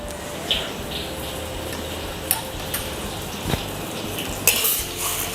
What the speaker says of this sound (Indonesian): Nah, ini kenapa cabai kita kita goreng terlebih dahulu atau kita tumis.